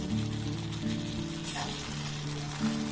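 Flattened rice, potato and semolina are stirred and roasted in a pan over a low flame, producing a soft continuous sizzle with faint scraping, under a steady low hum and without speech.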